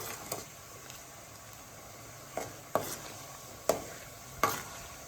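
Ginger garlic paste fries in hot oil for a homemade chicken pickle, with a steady low sizzle broken by several sharp spatula scrapes and taps against the pan.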